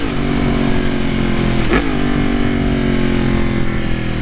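A 998cc engine on a 2018 Yamaha MT-10 motorcycle drones loud and steady at close range, with a quick blip of revs partway through before it settles back to an even roar.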